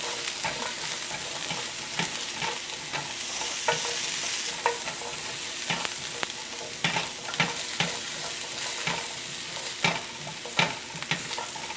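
Carrots sizzle steadily in a pan with a continuous frying hiss, broken by irregular knocks and scrapes of stirring against the pan, close and loud with no talking.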